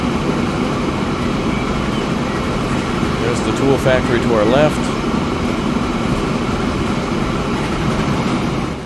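High-speed train in Transport Fever running along its route, a steady rumbling rail drone with a brief whistling squeal midway, heard under someone talking.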